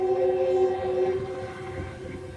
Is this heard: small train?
yes